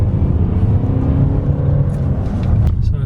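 Tuned Audi A5 accelerating hard in second gear: a loud, close engine drone with rising pull and strong low rumble, steady for about three seconds without pause.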